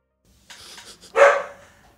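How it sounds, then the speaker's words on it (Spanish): A dog gives one sharp, fairly close bark after a few softer, muffled yips and breathy sounds, then falls quiet. "Ladrá, Pito, ladrá, sacate las ganas"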